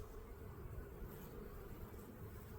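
Honeybees buzz around an open hive during a spring check, a low continuous hum of many wings, faint and steady with no voices over it.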